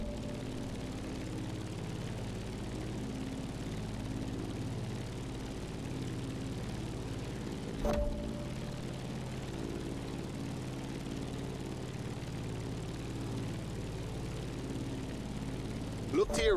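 Propeller airplane climbing in the racing game The Crew Motorfest, its engine giving a steady low drone with layered hum throughout, moderately loud, with a faint click partway through.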